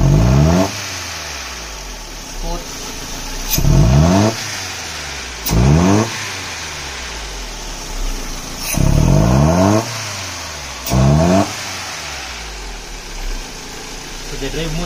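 A Mercedes-Benz M102 2-liter engine converted to EFI revs loudly, up close, in five or six sharp bursts that climb and fall back to idle between them.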